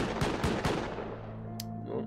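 Turrets in the Rust video game fire a rapid, loud burst of automatic shots during a raid defence, several close cracks in quick succession that thin out into lingering echoes and a low hum.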